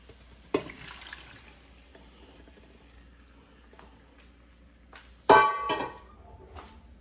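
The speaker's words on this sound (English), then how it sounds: "And I'm gonna pour in" Conch poured into a cooking pot for stew, a sharp splash and clatter near the start followed by quiet, then a louder wet splashing pour toward the end, close and alone without talk.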